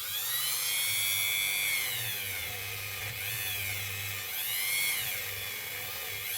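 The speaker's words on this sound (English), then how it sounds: "let's go over to Dave the Dremel and Kate Bush" A Dremel rotary tool whines continuously and loudly as it works on a ring made from a Moroccan 5 dirham coin, its pitch dipping and rising as the load changes.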